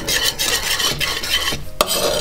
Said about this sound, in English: Right, let's whisk that.